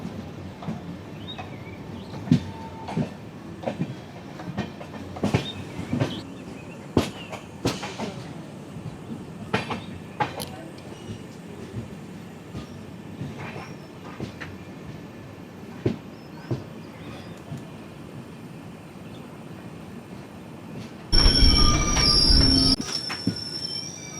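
Okha–Ernakulam Express running on the Konkan Railway near Kankavli station, a quiet rumble with scattered wheel clicks and squeals, then a loud, rushing burst of noise near the end.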